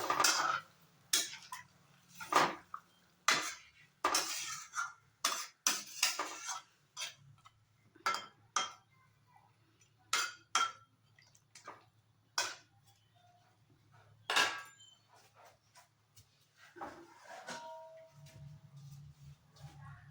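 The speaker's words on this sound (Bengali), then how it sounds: "এবার ভেজে নেওয়া মাছগুলোকেও ছেড়ে দেবো এর মধ্যে এবার নেড়ে দেবো" Fried hilsa fish are stirred in a pan for a mustard hilsa dish, making faint, irregular clinks and taps of a utensil against metal in a quiet room.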